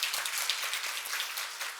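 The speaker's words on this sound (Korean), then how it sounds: "크게 환영의 박수를 돌리겠습니다." A church congregation gives a round of welcoming applause during a Sunday service, brisk close-up clapping from many hands that stays fairly even throughout.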